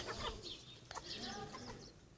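A broody bantam hen clucks softly with a chick, making faint, close, scattered chirps and low clucks against quiet background.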